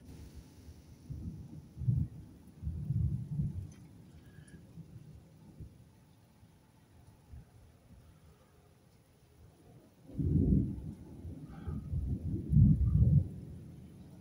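Thunder from a strong night thunderstorm rumbles low and deep, with one roll early on and another heavier roll near the end, distant but powerful, over a quiet hiss of rain.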